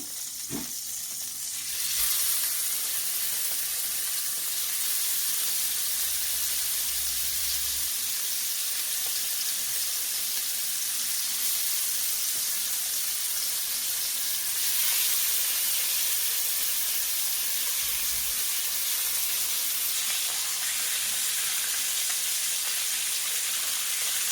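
Oxtails browning in a hot pan for stew give off a steady, moderately loud sizzle and hiss that runs unbroken, with no talking.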